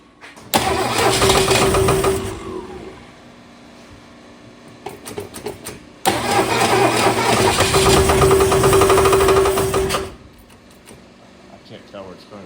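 A 1962 Ford Falcon with a new engine runs in two loud bursts of revving separated by a quieter idle, with a steady whine over the mechanical noise that fits transmission noise. People talk at times.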